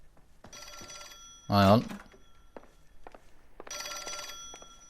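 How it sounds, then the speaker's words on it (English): An old-fashioned telephone bell rings in the video game LA Noire, two long trilling rings separated by a pause, while someone speaks briefly between them. "I'm getting a phone call."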